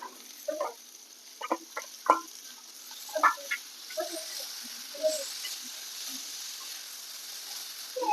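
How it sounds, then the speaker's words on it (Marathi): Onion and tomato sauté in a pan with green masala, giving a soft sizzle with scattered scraping stir sounds near the start and quieter frying afterward. "कांदा टोमॅटो चांगला आपला छान असा परतून निघालाय"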